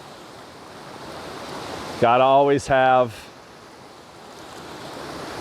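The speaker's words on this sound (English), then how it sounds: "you got a waterfall in the background" A waterfall and a creek in the mountains make a steady, broad rush of flowing water, with a brief spoken phrase cutting in partway through.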